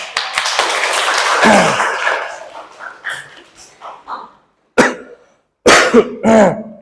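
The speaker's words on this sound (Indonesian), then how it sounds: "Maaf, agak batuk sekarang." A person coughs and clears their throat in a few harsh bursts near the end, after some close, rough vocal noise.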